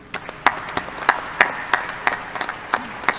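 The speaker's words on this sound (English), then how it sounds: "Let's clap for Joe anyway." Scattered, sparse clapping from a small part of a university commencement audience honoring an absent graduate, a second lieutenant; about a dozen separate claps spread over a few seconds, thin and uneven rather than a full ovation.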